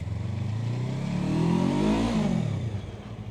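A Yamaha R3 motorcycle with 42 horsepower, ridden on a cold day, revs up as it accelerates, its engine pitch climbing steadily before easing off, loud and close with a rough mechanical drone underneath.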